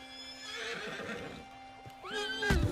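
A horse in the Red Dead Redemption 2 video game whinnies loudly, a rising and falling neigh with a sharp snort at the end, close up over faint background music.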